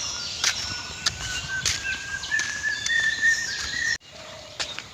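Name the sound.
birds calling from a tree in the village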